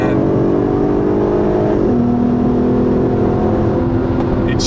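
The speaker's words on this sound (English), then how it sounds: "But just listen to it, downshifts, man." A 2008 Volkswagen R32 with a V6 engine drones loudly under steady in-car road noise, its pitch sliding down through a downshift and then holding steady as the car keeps pulling.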